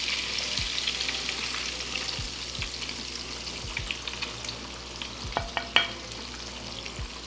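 Crappie fillets frying in hot oil in a pan, a steady close sizzle with scattered pops and a few soft clunks as the pieces are flipped, with no talking.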